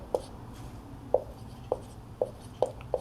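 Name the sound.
writing during a maths lesson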